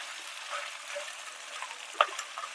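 Chicken for Andhra chilli chicken frying in oil until lightly browned, giving a continuous close, even sizzle with occasional small pops and a stir-like clatter.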